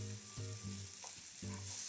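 Ground wild boar meat sizzles in a pan on the stove, a soft, steady frying hiss broken by a few rhythmic scraping and stirring strokes, heard without any talk.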